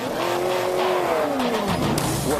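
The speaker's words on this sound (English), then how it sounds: "What Borla does with the sound of this exhaust" Race car engine roaring through a Borla exhaust, loud and close, its pitch sweeping and falling as it revs, with tire squeal and skidding mixed in. No talking.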